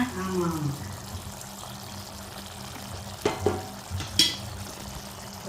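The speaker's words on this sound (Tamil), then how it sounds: "இப்போ வந்து தண்ணி ஊற்றிருக்குப்பா" Water pours into a pot of vegetable salna over a low hiss of cooking, followed by a few scattered clinks and splashes, with a voice faintly present.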